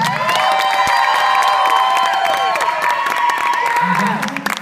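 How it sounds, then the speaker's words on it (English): A university audience at a campus Q&A event breaks into loud applause mixed with cheering and whoops, crowd voices swelling throughout and high shouts rising over the clapping. "Let's have a round of applause for Jaclyn Lattanza"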